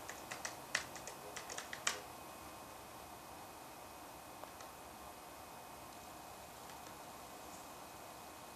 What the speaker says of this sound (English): So you can type in a search term if you want.